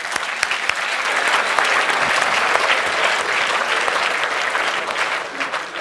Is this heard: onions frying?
no